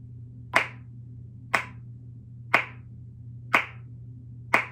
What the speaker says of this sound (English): We're gonna clap with each beat.